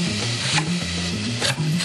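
Bacon fat rendering in a pot, a steady crackling sizzle with brief stirring scrapes, close and continuous.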